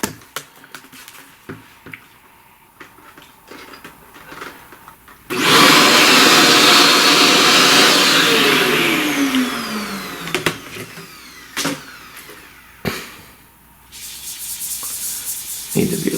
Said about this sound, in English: vacuum all this and see what we got.